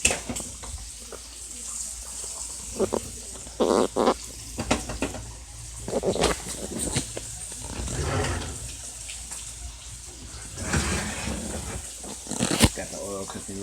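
Steak pan-searing in hot coconut oil, a steady sizzle and crackle with occasional spattering bursts, running beneath someone talking.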